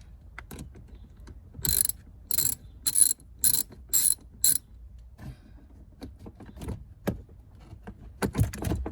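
A ratchet wrench loosens the battery terminal on a 2009 Mercedes E350 with the M272 engine, giving five or six loud, crisp bursts of rapid clicking at a steady rhythm, close by, with quiet handling noises around them.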